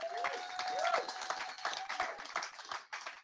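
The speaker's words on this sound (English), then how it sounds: "So give a nice round of applause to Dora" An audience at a London web performance meetup claps in a modest round of applause, quick irregular hand claps from a smallish crowd, fairly close and fading toward the end, with a faint whistle-like tone early on.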